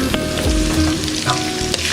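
Steady loud sizzle of chilli, turmeric powder and salt sautéing in a hot pan for a Kerala Onam thoran, with a spatula stirring and scraping a few times through the continuous frying hiss.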